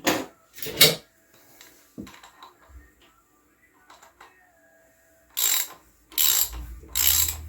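Ratcheting clicks come from loosening the top of a timing chain tensioner on a 2002 Harley-Davidson Road King Twin Cam 88. Two short bursts sound close at the start, then three louder bursts follow near the end, with quiet handling noises between them.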